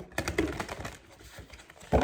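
Oracle cards shuffled in quick riffling bursts, a rapid fluttering patter of light slaps close by, ending with a sharper rustle.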